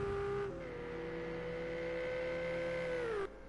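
Ferrari GT3 race car in a racing game on the Indianapolis Road Course, its engine holding a steady high drone that shifts pitch as it rounds the final corner, fairly loud and alone.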